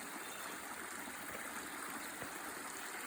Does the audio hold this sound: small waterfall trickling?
yes